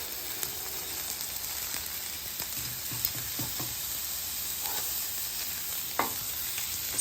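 Pork chops sizzle steadily on a Blackstone griddle set to low, a continuous close frying crackle with occasional sharper pops and a brief flare near the end.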